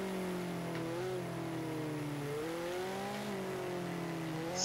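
A Mitsubishi Eclipse engine revs in Forza Horizon during a street race against a Volkswagen Beetle, giving a steady, loud droning note whose pitch rises and falls with the throttle for the whole stretch, with no talk over it.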